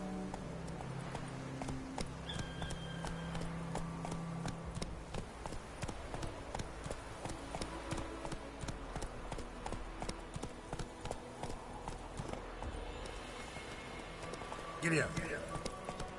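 Horse hooves clip-clop steadily in The Witcher 3, a rhythmic stream of close, moderately loud steps under continuous talk and game sounds, with a brief sharper burst near the end.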